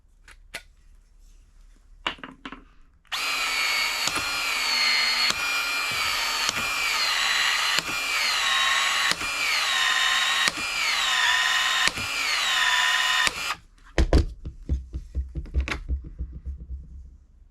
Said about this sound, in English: Now the last piece I gotta do is fit my pressure gauge to this 3/4 inch PEX that I just put on. So I'm going to expand this out